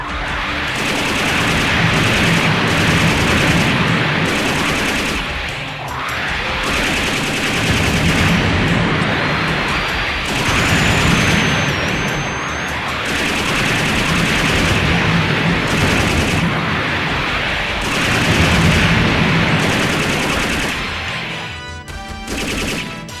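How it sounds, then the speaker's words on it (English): A destroid mech in the video game Robotech Battlecry fires heavy rapid weapons in repeated loud bursts, each several seconds long, with short pauses between volleys and a final trailing blast. "The destroid is about to fire."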